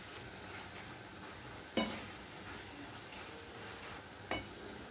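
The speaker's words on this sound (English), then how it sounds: "Just stir it all together" Meat mixture with liquid Maggi seasoning for shepherd's pie being stirred in a pan, a quiet faint sizzle with two brief spoon knocks against the pan.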